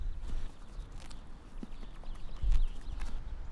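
Hooves of a Shetland pony clip-clop in an uneven walking rhythm, close by and moderately loud, with a low rumble of background noise and no talking.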